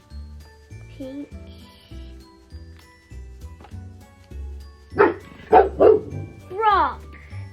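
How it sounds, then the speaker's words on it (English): Dog barking in a home, several sharp barks and a yelp near the end, heard over background music and a person talking. "that was just my dog"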